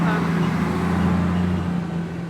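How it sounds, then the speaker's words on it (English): A loud truck rumbles past close by, a heavy low engine drone that fades slightly toward the end. "it's a very noisy truck."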